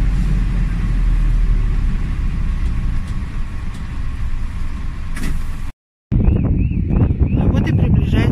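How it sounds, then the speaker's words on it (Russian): An electric commuter train approaching: steady loud rumble for several seconds, a brief cut to silence, then renewed noise with whining tonal sweeps and voices talking. "А вот и приближается мой электропоезд"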